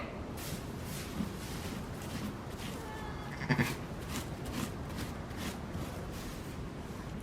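Sheep bleats in a lambing pen where a ewe has just given birth to a newborn lamb, repeated cries over a steady bed of barn noise, close and moderately loud.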